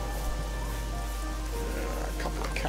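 Rain in the video game Oblivion falls as a steady, even hiss of drops on surfaces. A low constant hum runs underneath, and no voices are heard.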